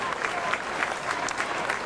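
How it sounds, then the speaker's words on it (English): Football crowd at a 2001 Port Adelaide match against Central District applauds with sustained clapping, while a commentator talks over it. "Their fans applaud it."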